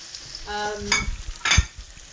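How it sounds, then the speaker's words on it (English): Onions, peppers and spring onions going into a hot wok for salt and pepper wings, heard as a short tonal clatter followed by two bursts of sizzling and stirring. "So to this I'm going to add in all the vegetables. So I've got onions, peppers and spring onions"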